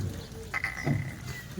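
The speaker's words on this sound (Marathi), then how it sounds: "बघा मित्रांनो शेळी" A pregnant goat in a goat trading setting gives a short, fairly faint bleat partway through, with farmyard background noise throughout and no speech.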